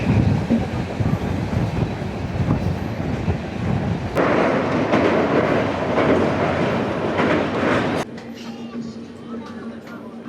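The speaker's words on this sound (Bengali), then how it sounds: "প্রায় 500 কিলোমিটার কমপ্লিট করে ফেলেছে আমাদের এই ট্রেন" A general-class passenger train on the Kolkata to Darjeeling route, running toward New Jalpaiguri, with a steady loud rumble and rhythmic wheel clatter that drops to a quieter hum near the end.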